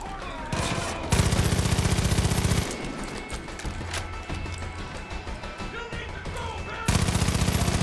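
Sustained automatic gunfire from a gun in the video game Far Cry 5, rapid rattling bursts that come loud and close, ease back into busier mixed combat noise, then return hard near the end.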